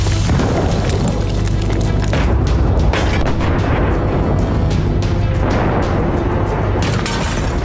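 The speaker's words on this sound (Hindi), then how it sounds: "आग की ऊंची लपटें और हमले के बाद ब्लास्ट की आवाज कई किलोमीटर दूर तक सुनाई दी।" Loud, continuous rumbling and booming from an Israeli air strike on the city of Sidon, Lebanon, dense low roar with repeated heavy thuds layered over the whole stretch.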